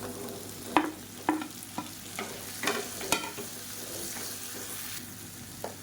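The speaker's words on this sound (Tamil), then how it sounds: "மீடியம் சைஸாக ரெண்டு தக்காளி பொடியாக நறுக்கினதை சேர்த்துக்கலாம்" Onions and finely chopped tomatoes fry in a pan for a chutney side dish, with a low steady sizzle broken by several sharp scraping stirs of a spoon against the pan, close by and with no talking.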